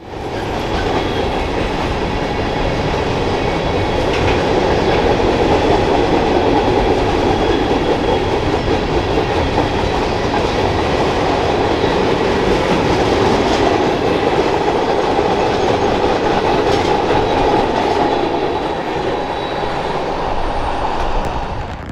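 A Union Pacific freight train led by a 1996 AC4400CW and a rebuilt ex-Southern Pacific C44ACM rolls past on the Moffat Tunnel route in Colorado, a loud sustained rumble of engines and wheels with rhythmic clatter, swelling and fading slightly.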